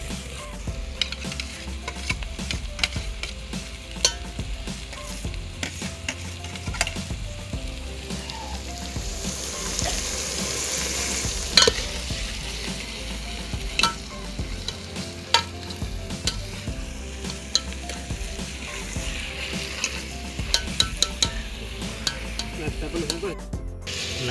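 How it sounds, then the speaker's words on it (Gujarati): Chavanu being stirred into a whole garlic curry with onion and tomato in a pan, a steady loud sizzle with constant scraping and rubbing of a spoon, close and without talk. "તો આપણે અંદર ચવાણું મિક્સ કરી લઈશું"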